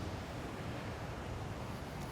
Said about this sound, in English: Coastal waters, Atlantic Ocean.